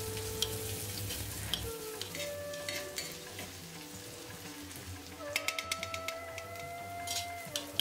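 A small chopped onion fries in a pan, a soft steady sizzle with a few light stirring ticks and faint tonal hum in the background, close and fairly quiet.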